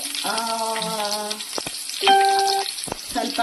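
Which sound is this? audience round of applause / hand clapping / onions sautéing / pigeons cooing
onions sautéing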